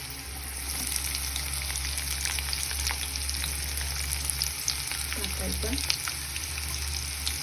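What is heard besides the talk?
peanuts and chopped onion frying in oil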